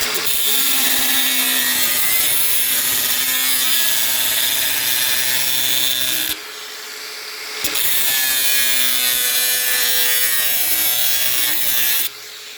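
Loud, harsh screeching of an Einhell TE-AG 18/125 cordless angle grinder cutting a knife from sheet metal, sustained with a brief drop to a lower whirring pause midway before resuming.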